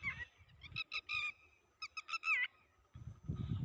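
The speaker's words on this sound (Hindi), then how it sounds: "ये आवाज़ टिटीरी की है जो अभी उड़ रही है।" A lapwing calls while flying over a large pond, giving a quick series of sharp, high, piping notes in two clusters. The calls are faint and distant, with low rumbling background noise between and after them.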